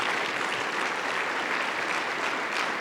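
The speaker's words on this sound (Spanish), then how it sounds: "Démosle un aplauso al Rey de Reyes." A church congregation applauds during a Sunday sermon, a dense, even wash of many people clapping that holds steady for the whole few seconds.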